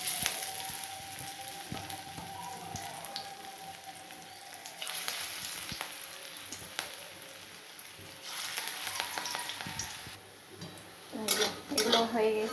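Drumstick flower fritters (sojne fuler bora) fry in oil with a soft, steady sizzle, joined by clinks of utensils against the pan and a louder clatter near the end.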